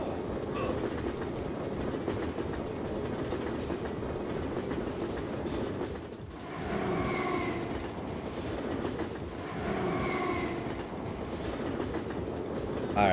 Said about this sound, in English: Alright, what is going on with my train?